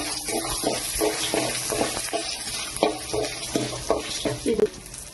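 Dried red chillies fry in hot oil for a kara chutney, a steady sizzle broken by regular scraping stirs of a spatula in the pan, close and fairly loud with no talking.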